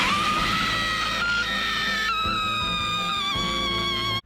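An anime character screams after being stabbed, a long, loud, sustained high-pitched cry that wavers and continues unbroken for several seconds, alone without talk.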